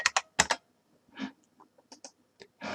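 A few short bursts of computer keyboard typing in a quiet room, quick clustered keystrokes with brief pauses between them.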